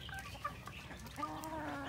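Chickens on a farm range, settled after being given water, clucking softly and intermittently in a low, steady background murmur with a few brief higher calls.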